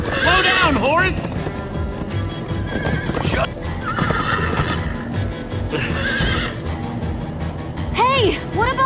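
A horse in the video game Minecraft: Story Mode gallops with clip-clopping hooves and whinnies repeatedly in sharp, loud neighs, mixed with game music and voices talking over it.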